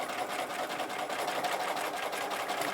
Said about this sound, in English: few stitches to secure it